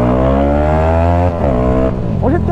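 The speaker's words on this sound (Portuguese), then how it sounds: "E o jeito que a moto arranca, mano." Yamaha R15 155cc motorcycle pulling away, its engine roaring loud and close with a steady, strongly harmonic tone, then briefly dipping and climbing again as it revs through the pull.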